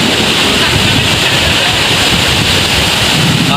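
Strong wind during a stormy motorcycle ride on SYM Husky 150s in Johor, Malaysia roars steadily into the microphone, a loud, unbroken rushing blast with no pauses throughout.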